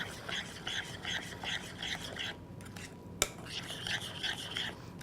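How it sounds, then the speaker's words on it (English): A spoon stirs homemade salad dressing for an Amish broccoli salad in a bowl, giving a close, steady scraping and swishing rhythm. The sound breaks off briefly, with one sharp clink partway through. "All right, we're going to stir that together."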